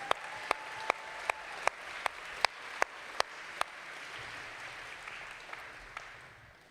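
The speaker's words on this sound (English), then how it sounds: "I think that probably deserves another round of applause." Clapping from an audience at a school graduation ceremony, a soft spread of applause with one nearby pair of hands striking sharp, steady claps that stop partway as the sound fades out.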